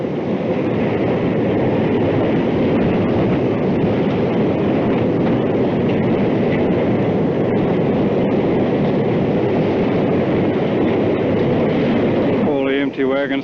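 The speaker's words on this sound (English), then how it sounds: "Here's a goods train going up, grinding its way around these sharp corners" A goods train grinds around sharp curves on a New Zealand railway deviation between Ohakune and Horopito in 1985, a loud continuous rumbling roar with steady metallic noise and no pause.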